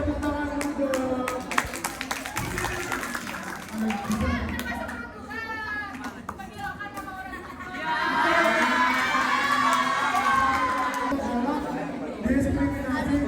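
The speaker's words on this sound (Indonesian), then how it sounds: "Kita tepuk tangan dulu dong." Junior high school students at an anti-violence awareness event in Surabaya clap and cheer, with a burst of applause mixed with lively crowd chatter, shouting and kids' voices that swell louder midway, while an adult speaks over them.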